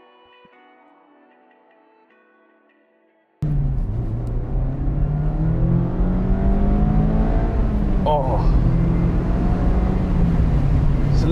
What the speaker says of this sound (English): it's a lovely car to really rev out.